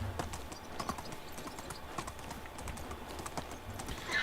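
Donkey hooves clip-clop at a steady walking rhythm in the medieval survival game Medieval Dynasty, a fairly quiet, continuous patter of soft clicks over light ambience.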